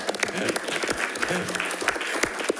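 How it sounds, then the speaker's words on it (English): Applause at a school district board meeting, a brief burst of many people clapping with scattered sharper claps and faint voices mixed in. "Let's give Jo a round of applause to get her started."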